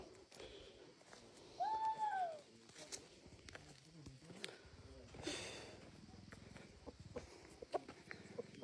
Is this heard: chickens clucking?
yes